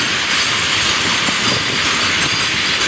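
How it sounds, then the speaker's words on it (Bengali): A local train runs at Janai Road station, loud and close. Its steady rumble and rattling clatter fill the whole stretch, with no voices. "এই ট্রেনটা করেই এলাম ভাই।"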